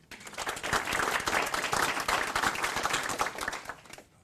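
An audience claps to welcome Tribal Chief Ron Ekdahl at the Isabella County 2 Percent Distribution event, a dense, steady burst of applause lasting about four seconds before tapering off.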